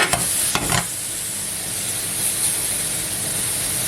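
Caramelizing apples being stirred in a pan for crêpes, a steady loud sizzle with scraping stir strokes near the start, continuing evenly throughout with no voices.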